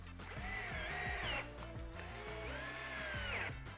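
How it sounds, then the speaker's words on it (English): A screw gun drives a screw into a bike wall mount with two close, rising-and-falling motor whirs and a rattling ratchet texture, heard alone at moderate loudness. "take the screw, pop it on the end of your screw gun"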